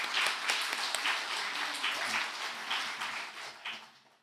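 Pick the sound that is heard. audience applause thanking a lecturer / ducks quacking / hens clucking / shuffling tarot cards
audience applause thanking a lecturer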